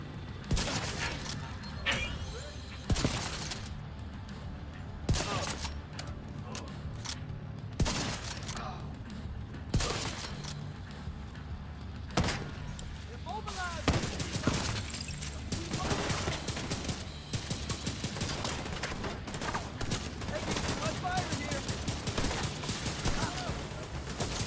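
Mantis exotic sniper rifle in The Division 2 video game fires repeatedly amid a dense, continuous barrage of other gunfire and action sounds, sharp cracks recurring at irregular intervals throughout.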